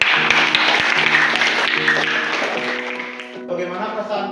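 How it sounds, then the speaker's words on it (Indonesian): Classroom applause from a group of students after a lesson, a dense patter of clapping that fades toward the end while voices and tonal sounds rise over it. "Kasih tepuk tangan dulu"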